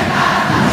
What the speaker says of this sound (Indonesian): sorak-sorak dari SMK 1 Batam